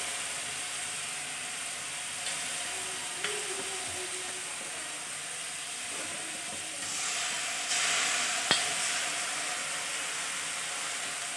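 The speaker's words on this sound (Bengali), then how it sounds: "ভালোভাবে একটু মশলাটা ভেজে নিতে হবে আগে" Spice masala with garlic frying in a pan, a continuous even hiss at moderate level with faint scraping and a single sharp click near the end, no one speaking.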